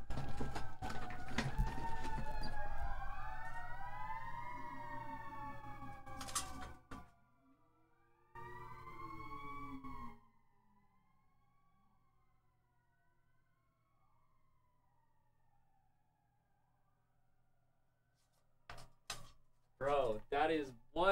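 Emergency vehicle sirens sweep up and down outside, loud at first, then fading away into near quiet before a voice cuts in at the end.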